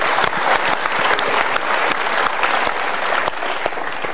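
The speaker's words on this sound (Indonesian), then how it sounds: "Kita berikan tepuk tangan untuk mereka." A studio audience on a television talk show applauds loudly and steadily, many hands clapping in a dense continuous wash with no talking.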